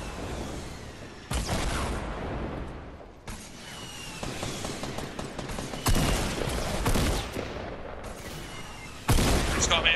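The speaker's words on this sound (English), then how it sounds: "Keep firing at him." Gunfire in the Fortnite battle royale game comes in loud rapid bursts and volleys separated by brief lulls, with sharp cracks and metallic clatter throughout and no voices.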